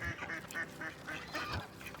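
Several ducks quacking and honking in quick, irregular bursts, fairly faint and slightly distant.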